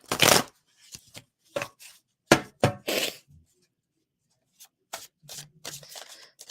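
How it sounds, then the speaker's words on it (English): Tarot cards being shuffled, several sharp riffling bursts separated by pauses, close and fairly loud, ending in softer scattered card handling. "So let's pull some cards."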